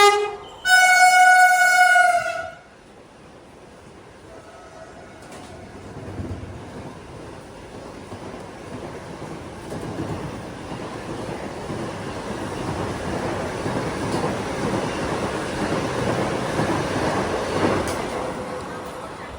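A MEMU passenger train pulling into platform 2 on its way to Marikuppam, heard first as a loud horn blast, then as a steadily rising rumble of the train rolling in close by.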